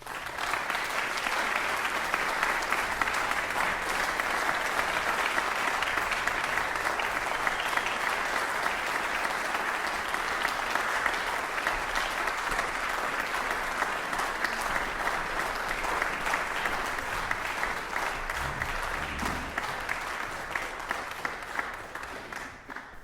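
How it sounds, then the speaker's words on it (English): A concert audience applauds after a Haydn performance, steady dense clapping that stays loud and even for over twenty seconds before tapering at the end, with no talk. "The Haydn ends and is applauded."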